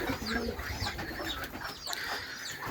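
Pigeons in a village loft, including a white pair and high-flying birds settled on their nests, coo in low repeated bursts beside clucking hens, the calls layered and fairly close against a busy rustling background.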